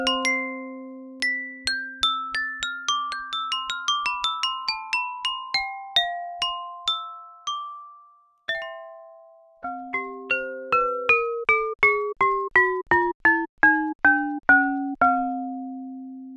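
Brass tiles from a floor played as a sampled keyboard instrument at a soft velocity layer, giving a run of gentle bell-like metallic notes with ringing overtones, first a quick descending-ascending cascade, a pause, then a steady series of evenly spaced single strikes.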